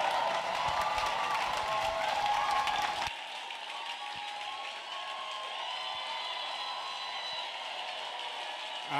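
An audience at a church Bible seminar claps hands, louder for the first three seconds, then settles into softer, sparser clapping with a few scattered sharp claps and faint voices.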